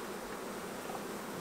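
Honey bees at an opened hive box during queen rearing work, making a steady, even, close buzz of many insects that holds at a constant level throughout with no talking.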